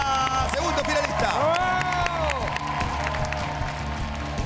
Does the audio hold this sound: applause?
yes